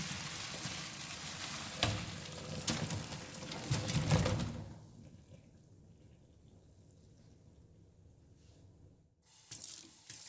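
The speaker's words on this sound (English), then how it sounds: "I'm going to take this right over to the sink and strain out all of this liquid" Beef pho broth pours from a heavy pot through a strainer into a sink, a rushing, splashing gush for about four seconds before dropping to a faint trickle, with a brief clatter near the end.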